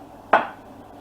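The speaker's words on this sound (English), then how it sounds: "I'm going to put the lid on and turn it down just for it to simmer" A metal lid is set onto a pot of simmering Spanish-style fish stew, giving one brief, crisp clink that fades quickly against a quiet kitchen background.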